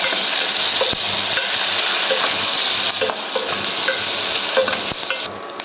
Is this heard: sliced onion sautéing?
yes